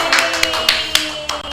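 Scattered clapping from a studio audience on a children's television program, a few sparse claps over a steady hum.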